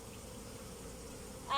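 Honey bees buzz steadily inside an opened beehive crowded with honey frames, a faint continuous drone, with a louder burst close by at the very end.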